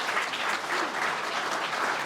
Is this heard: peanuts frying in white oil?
no